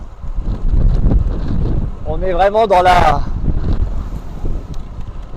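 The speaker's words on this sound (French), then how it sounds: "on prend un vent de 3/4" Strong wind roars and buffets the microphone on a rider cycling a Belgian country road on the Tour of Flanders route, a continuous loud gusting rush while someone speaks over it.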